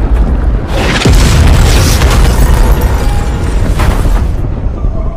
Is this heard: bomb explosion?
yes